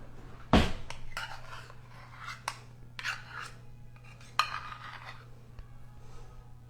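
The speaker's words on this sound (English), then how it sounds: "I'm going to need another spoon to scoop it out" Plain Greek yogurt scooped from a container with a spoon, with a sharp metallic scrape at first followed by scattered softer scraping and tapping strokes at close range.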